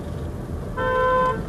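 Car horns honk in city street traffic in central Yerevan, a steady multi-tone blast rising over the ambient traffic rumble partway through and holding for about half a second before fading.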